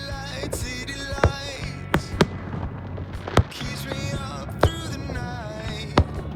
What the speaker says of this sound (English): I like to think that they put on the fireworks especially for me that evening